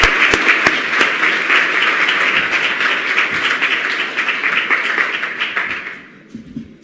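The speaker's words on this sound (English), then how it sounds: "So round of applause for those teams." A demo day audience claps loudly and steadily for honorable mention teams, sharp individual claps standing out early before the applause thins and fades near the end.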